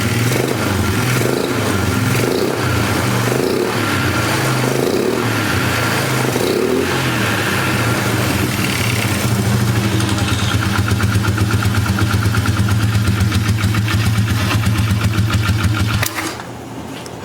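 A trashed Polaris 325 Magnum four-wheeler engine fires up and runs steadily, loud and close, with a mid-pitched buzzing idle and a few revs before cutting out near the end.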